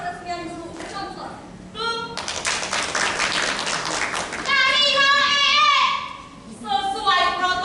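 A burst of clapping from a theater audience at a school theater festival performance, a few seconds long, between stretches of people talking.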